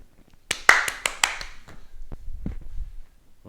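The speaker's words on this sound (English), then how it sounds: "Nice fast claps and bend the knees to catch the ball." Children doing quick hand claps during a primary school tennis drill at home, a burst of about six sharp, close claps in fast succession followed by a few softer taps.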